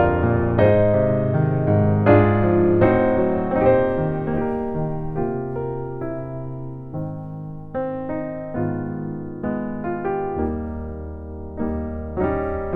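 Solo piano plays a song slowly, with sustained chords and suspensions resolving in turn, a clear melody over a warm low register, close and unaccompanied.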